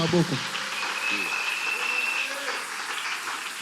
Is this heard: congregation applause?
yes